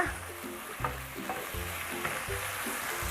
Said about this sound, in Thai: ขั้นตอนต่อไปเราจะทำการใส ่ในส่วนของตัวต้นหอมค่ะ แล้วก็ทำการคลุกเคล้านะคะ